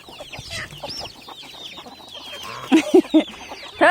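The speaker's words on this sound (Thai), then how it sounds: "ไก่พันไข่" Egg-laying chickens cluck and chatter close by, with several loud, sharp clucks bursting out toward the end over quieter background calls.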